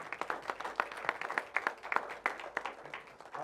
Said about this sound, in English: I'll let the applause die down